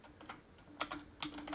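Fingers typing a command on a computer keyboard, a handful of quiet, uneven key clicks in small clusters against a faint steady hum.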